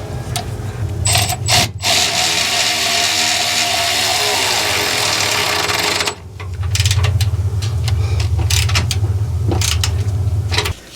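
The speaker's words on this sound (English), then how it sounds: "We're just going to use the Milwaukee ratchet here underneath" A Milwaukee cordless ratchet whirs in long, loud bursts while tightening a bolt under a 2019 Toyota Sequoia during a rear suspension install, with short pauses and metallic clicks between the runs.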